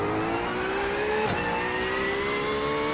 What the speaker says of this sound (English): There's a faster class car behind.